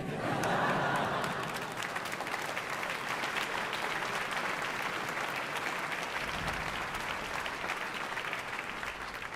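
Sustained applause from a concert audience after an orchestra performance, a dense even wash of many hands clapping steadily for several seconds, with a faint murmur of the crowd underneath.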